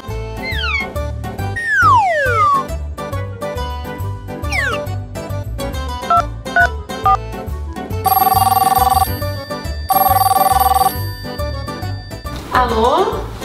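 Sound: telephone ringing

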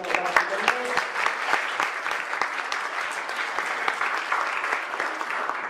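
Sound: audience applause at a conference

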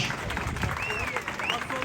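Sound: audience applause at a bull wrestling event

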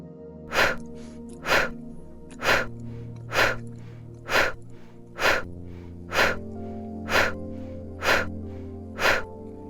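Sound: rapid breathing, nose inhale and quick mouth exhale

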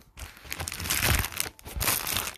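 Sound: cutting open a package ordered online

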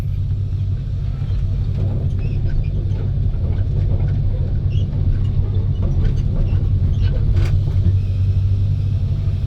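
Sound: engine revving on a farm machine

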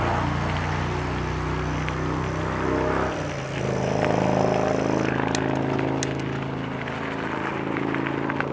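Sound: motorcycle passing by

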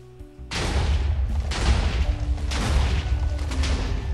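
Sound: railgun firing at spider in Minecraft RotaryCraft mod, video game

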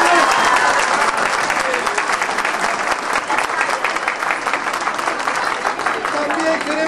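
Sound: audience applause

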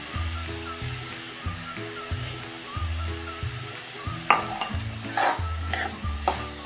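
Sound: cooked carrots with cashews and almonds stirred in pan

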